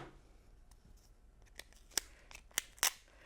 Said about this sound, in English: So when I do it, I just do a little bit of a snip.